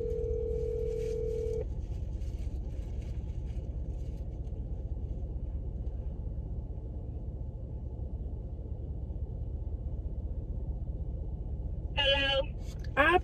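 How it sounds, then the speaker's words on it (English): A phone call rings out on the line, a steady dial-type tone heard briefly near the start over a constant low hum, with no talk until a short sound at the very end. "So I'm finna call her off this phone."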